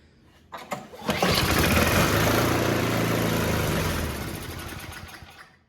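The Tecumseh engine on an MTD snowblower is pulled over with a few quick cranking bursts, then catches and runs at a loud, steady buzz close by before fading out toward the end.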